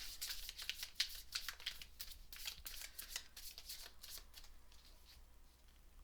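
Tarot cards being shuffled by hand, a soft continuous riffling and flicking close by, fairly quiet and steady with no talk over it.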